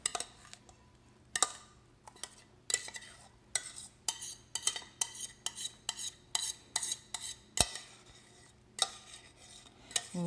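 A spoon scrapes and taps as low carb green bean casserole mix is transferred into a baking dish, making a series of sharp clinks and soft scraping strokes at irregular intervals, fairly quiet and close.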